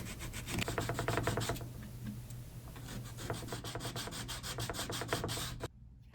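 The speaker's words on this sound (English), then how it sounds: "I used some of that used sandpaper that still had life in it to hand sand" Sandpaper rubbed by hand over the beveled edge of a wooden piece, a quick run of close, rhythmic scratchy strokes that pause briefly midway, pick up again, then stop abruptly near the end.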